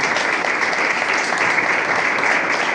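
Church congregation applauding loudly together during a Spanish-language worship service, dense steady clapping filling the room throughout with faint voices beneath.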